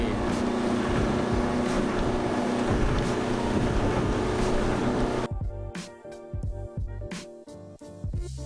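A motorboat engine drones steadily and loudly, then abruptly drops to a lower, choppier rumble with intermittent bursts of noise.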